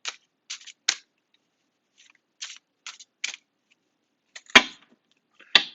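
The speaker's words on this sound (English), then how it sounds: "she loves the sound of shuffling cards" A deck of tarot-style cards is shuffled in short, crisp riffling bursts, several quick flutters separated by brief silences, close and clear with nothing else audible.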